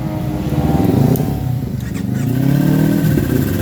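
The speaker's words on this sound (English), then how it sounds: "let's turn this beast of a bike on" A sport motorcycle engine fires up close by in neutral at a track day and revs, rumbling loudly, dipping briefly, then swelling again into a fast idle.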